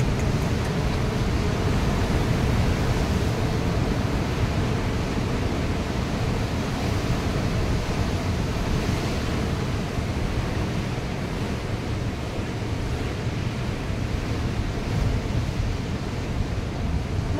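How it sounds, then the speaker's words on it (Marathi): Rough, churning sea at Harihareshwar crashes in a continuous broadband roar of surf, steady and loud throughout with wind buffeting the microphone and no clear voices. "आपण बघा समुद्र किती खवळला आहे"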